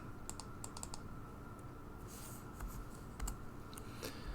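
Computer keyboard typing comes as quiet, scattered key clicks in short bursts against a steady background hum, faint and with no talking.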